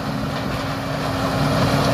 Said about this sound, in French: on est en train de broyer les tas là avec un énorme broyeur à plaquettes.